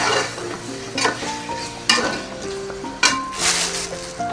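Meat korma with star anise is stir-fried in a pot for Karachi-style biryani, a steady sizzle broken by sharp scrapes and clanks of a spoon against metal at uneven intervals.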